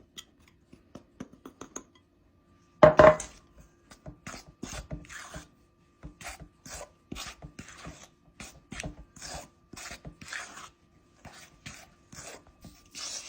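Sifted flour, with a little baking powder already mixed in, being stirred into a Nutella and egg cookie dough, giving repeated short scraping and rasping strokes in an irregular rhythm, close and fairly quiet, with one louder knock near the start and no talking.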